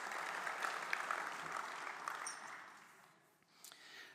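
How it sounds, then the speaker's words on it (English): Quiet, steady applause from the audience at the Rodeo Hall of Fame 2024 induction ceremony, heard at a distance, thinning and fading toward the end before a brief swell. "Let's have a great round of applause"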